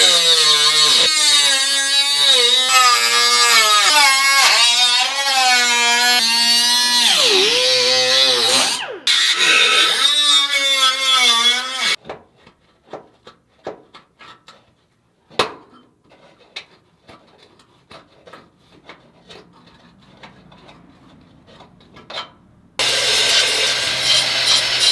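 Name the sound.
cutting a hole in Porsche body metal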